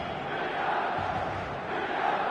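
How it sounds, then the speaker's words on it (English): Dense stadium crowd roar from the eFootball video game, a steady, loud wash of many voices with no breaks, heard alone. "The noise is just about reaching a crescendo here"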